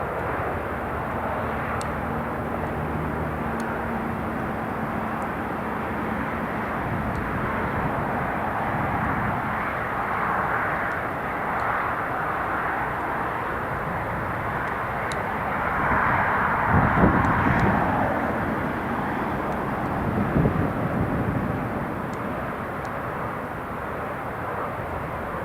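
An Italian Air Force C-27J turboprop climbs away from Newcastle International Airport, a steady broadband engine roar that swells briefly near the middle and then holds at a moderate, distant level.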